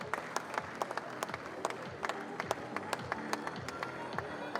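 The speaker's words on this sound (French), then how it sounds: "On va les applaudir, mesdames et messieurs," Audience applause at the Ballon d'Or 2023 awards ceremony: steady, moderately distant clapping from a large hall crowd with sharp individual claps standing out, continuous throughout.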